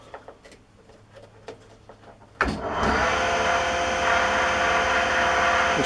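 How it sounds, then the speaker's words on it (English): After a few light knocks and handling noises, the motor of a homemade table saw, built with a proper spindle and switched by an NVR switch, starts abruptly and runs on as a steady, fairly quiet whirring hum. "It's quite a quiet one as well."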